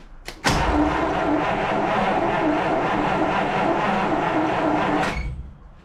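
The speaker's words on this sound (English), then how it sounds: "Just crank it." The engine of a 1949 Buick Roadmaster hearse being cranked by its starter in a loud, steady, rhythmic churning that runs for about five seconds and then stops abruptly, heard close with no talking.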